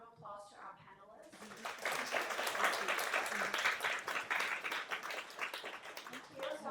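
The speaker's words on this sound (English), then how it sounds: "maybe we'll just give a round of applause to our panelists" Audience applause for the panelists at an in-person women's financial independence event, a full, steady round of many hands that swells in after a short spoken phrase and holds to the end.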